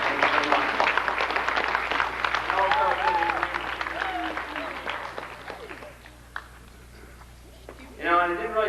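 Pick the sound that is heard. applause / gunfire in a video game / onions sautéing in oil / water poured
applause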